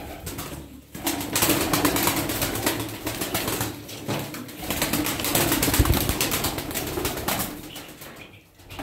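Pure-bred game pigeons from Kırıkkale flapping in a loft in Darıca, a dense flurry of close wingbeats and fluttering that swells and fades in waves over several seconds, with soft cooing mixed in.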